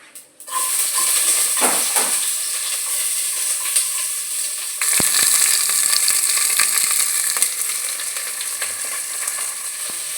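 Chopped big onion hits hot oil with fennel seeds in a pan, bursting into a loud, dense sizzle that holds steady with brief crackles and a stir or two, no voices.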